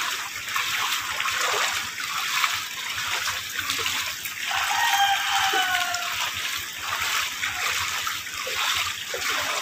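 Typhoon floodwater rushing through a residential subdivision in Marilao, Bulacan, a continuous loud splashing and churning flow with gurgling surges, close by and without talk.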